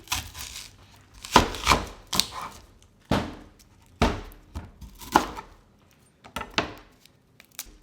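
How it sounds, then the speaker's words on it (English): A knife chops half a yellow onion on a cutting board in irregular close thuds, some quick pairs, others spaced apart, with no talking. "Now we are going to chop half a yellow onion."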